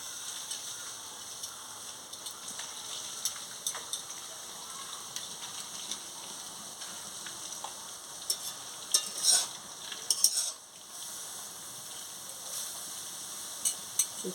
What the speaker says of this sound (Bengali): আমি তো আজকে এমনি ভাজছি